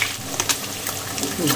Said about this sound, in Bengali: প্রথমে আলুগুলো ভাজার জন্য ছেড়ে দিলাম, ডিমগুলোকে ভাজতে দিয়ে দিলাম।